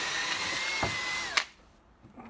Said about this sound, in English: So we're going to put hinges by drilling pilot holes into our